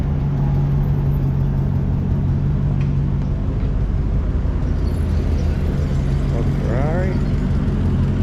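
A Ferrari passes along a beachside street, heard as a steady mid-low engine drone under continuous street noise and breeze, with a voice talking over it.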